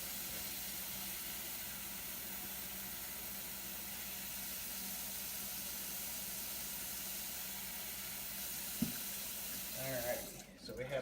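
Warm water, preheated to about 101 degrees, pouring steadily from a tap into a container for developing film, a constant hiss and rush that continues unbroken before a brief knock and some handling clatter near the end.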